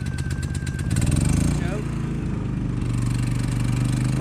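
A Champion portable generator engine cranks, catches and runs with a steady mid-pitched motor drone, loud and close, while someone talks over it.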